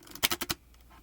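Tarot cards, shuffling poorly, are shuffled close by in four quick, papery bursts, then a soft rustle fades out.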